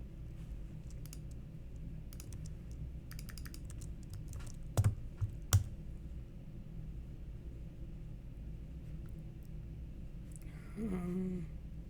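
Someone types on a computer keyboard in quick bursts of close keystrokes, with a few louder clicks near the middle and a faint hum underneath.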